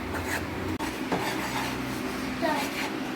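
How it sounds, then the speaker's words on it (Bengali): Hands knead a laddu mixture with ghee in a bowl, producing soft, continuous rubbing and squishing with an occasional light knock against the vessel, close and fairly quiet. "তো ঘিটা দিয়ে ভালো করে এটাকে একদম মাখতে হবে"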